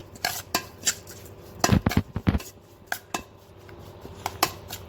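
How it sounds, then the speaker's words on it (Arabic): A utensil stirs chopped onion with onion powder, salt and black pepper, giving a run of light metallic clinks and scrapes against the dish, some clustered, others spaced out, with no talk. "نقلب كل ده كده مع بعضه."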